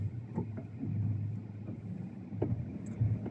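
A car manoeuvres at a roadside pickup point on a morning drive in Las Pinas City, with a low, muffled engine rumble and soft road noise heard from inside the cabin, with a few faint knocks and clicks.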